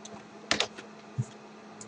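A few sparse, light keystrokes on a computer keyboard, faint and close, with quiet gaps between them.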